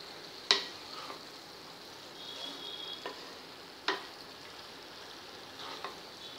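Cabbage and chana dal stirred in a cooking pan for a Marathi-style bhaji: a faint steady sizzle with a few sharp spoon taps and scrapes against the pan, spaced a couple of seconds apart, no talking.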